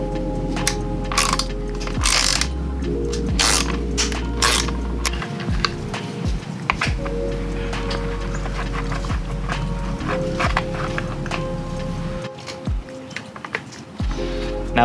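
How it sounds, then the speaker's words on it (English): Mounting bolts on a 2021 Ducati Scrambler Desert Sled being loosened with a wrench: clicks and metallic clinks over a steady low hum, close and distinct, with no speech. "We're gonna take these two mounting bolts off."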